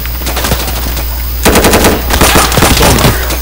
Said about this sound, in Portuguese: Olha os tiros varando tudo.